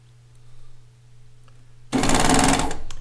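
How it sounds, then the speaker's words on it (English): An air threading serger starts up after a quiet low hum and runs loudly and close for just over a second with a fast, dense stitching rattle. "It actually makes serging fun when you have one of these air threading sergers."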